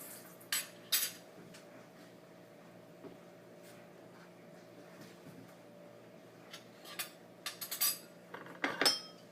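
Metal cutlery clinks and rattles in short bursts as utensils are rummaged through nearby, over a steady low hum, with no talking.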